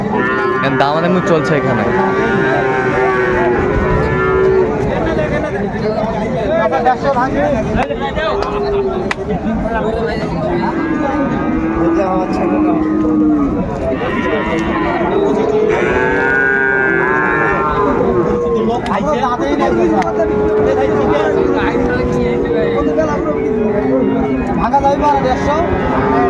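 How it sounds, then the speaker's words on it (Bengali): Sahiwal bulls low again and again at a crowded cattle sale in Dinajpur, with long, overlapping moos close by while people bargain and chatter throughout. "চমৎকার একটি ষাঁড় গরু"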